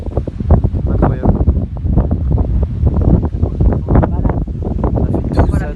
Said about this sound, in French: mais il y a tellement de vent actuellement